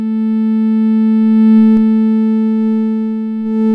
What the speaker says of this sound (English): I used a low frequency sine wave